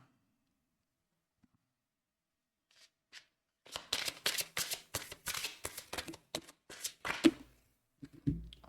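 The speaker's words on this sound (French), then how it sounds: "Vous voyez les cartes comme elles tombent directement." Tarot cards being shuffled and dealt, with a quick run of crisp, close riffling slaps and flicks that follows a near-silent start.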